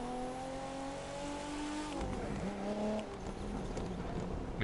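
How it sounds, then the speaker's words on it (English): A car in the racing video game The Crew 2 lets off the throttle with a fluttering turbo, the steady engine drone breaking into choppy, rapid chatter midway before settling back into a loud, continuous hum. "We have some turbo fluttering."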